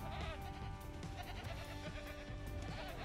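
Goats bleat in the Jurassic World Evolution video game, several overlapping calls repeating over a dense, busy game soundscape that stays fairly loud throughout.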